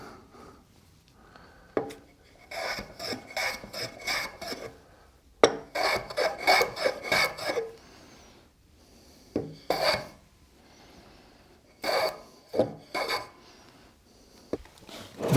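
A wooden oval box is hand-filed with a rasp to take its corners off, giving repeated rough scraping strokes in short bursts with pauses between them, close and moderately loud.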